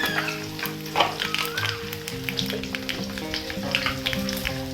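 Nigella seeds crackling in hot oil left over from frying fish, a close, steady sizzle with fine popping throughout.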